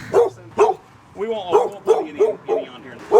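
A dog barks repeatedly in short, loud, close yaps spread across a few seconds, with a brief whimpering tone between barks.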